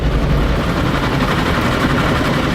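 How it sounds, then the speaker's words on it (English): A helicopter in a 2006 World Cup football video game drones with a steady, loud low rumble and dense broadband noise, continuous throughout without voices. "Sounds like a chopper"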